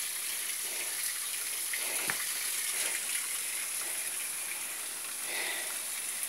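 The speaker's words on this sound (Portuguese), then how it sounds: "Aqui é o outro lado da água, onde tá caindo." Spring water pours from the rocks inside a cave as a steady, hissing splash, constant and fairly close, with small drips and gurgles breaking through now and then.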